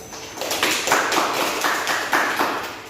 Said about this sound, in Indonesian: Beri aplaus dulu untuk Nurul